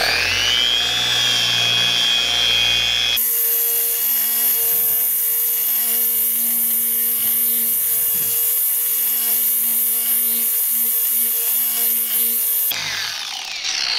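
A car polisher switched on and dialed up hums with a steady, loud motor whine that holds for about ten seconds before cutting off, with no talking over it.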